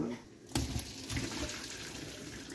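Cooking water drains from a pot of boiled potatoes in a kitchen, starting with a sudden pour and continuing as a steady splashing rush, with a voice speaking over it.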